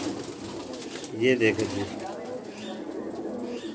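Rooftop pigeons give a soft cluster of coos near the microphone, rising briefly over someone talking and a steady outdoor background.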